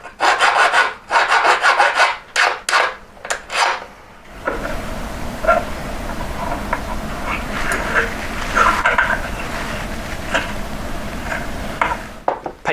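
Handmade metal court-shape ring band being worked by hand: a run of short rubbing strokes, then a continuous scraping, whirring abrasion that holds steady and close, with no talk.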